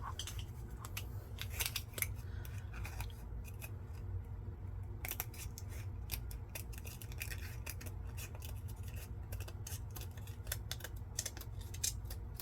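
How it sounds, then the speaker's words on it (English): Cheap Walmart scissors snip through plastic in a rapid run of crisp, close clicking cuts, with brief pauses between bursts and no voices. "That's why I'm okay cutting this plastic with them."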